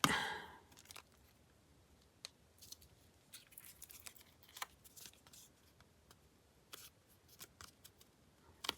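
Tim Holtz tissue paper being crinkled by hand during a papercraft project, a loud rustle at the start followed by scattered soft crackles and crisp snaps with quiet pauses between them.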